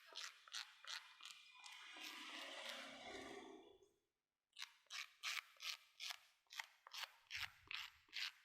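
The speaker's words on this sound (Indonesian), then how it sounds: "Dikasarkan memakai sikat besi." A wire brush scrubs the rubber outsole of a New Balance running shoe, first in a long rasping stretch, then after a brief pause in a series of short, rhythmic, close strokes.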